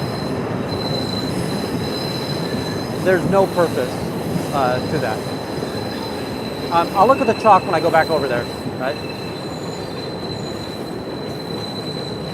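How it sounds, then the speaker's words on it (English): Train wheels squeal in two shrill bursts as a train passes nearby, with a steady rumble underneath and someone talking over it. "Sorry about that train."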